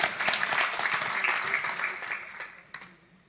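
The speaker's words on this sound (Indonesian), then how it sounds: "Kita beri tepuk tangan untuk kebenarannya." Church congregation breaking into applause during a sermon, a dense burst of clapping that swells early then gradually thins and fades out, with a few last scattered claps near the end.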